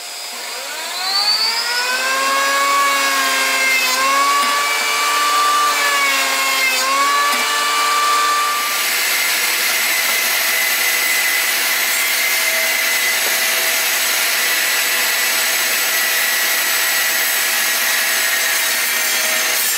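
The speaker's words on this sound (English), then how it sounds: "you saw I used the compound miter saw to just make it a small flat surface" A compound miter saw spins up with a rising, pitched motor whine, then bites into wood to shave a small flat surface, turning into a loud, steady, hissing cutting roar that carries on for several seconds.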